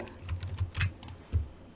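Keys tapped on a computer keyboard while working in Autodesk Inventor drawing software, a few soft, close clicks in an irregular rhythm with no talking.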